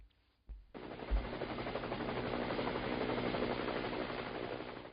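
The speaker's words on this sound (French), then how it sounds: "un hélicoptère est utilisé pour changer 5 pylônes vieillissants" A helicopter working to replace aging, corroded high-voltage pylons thunders in after a brief quiet start, its rotor chop loud and continuous as if close overhead, with no voices.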